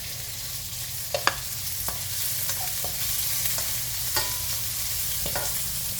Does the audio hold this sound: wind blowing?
no